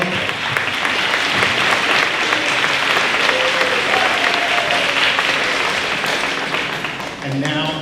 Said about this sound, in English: I'd like to give them a quick round of applause as well.